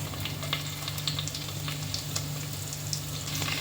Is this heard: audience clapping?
no